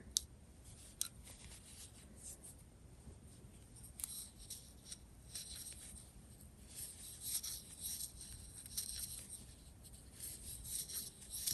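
Scissors cut gray yarn during a crochet project with a few faint, close snips and light rustling against a quiet background.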